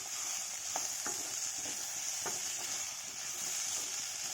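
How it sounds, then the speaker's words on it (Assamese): Ginger-garlic paste sizzles with chopped banana stem in a pan, a steady frying hiss broken by a few scraping stirs of a spatula, close and continuous with no voices. "এতিয়া অকণমান মই আদা আৰু নহৰু বটা অকণমান দি দিছোঁ।"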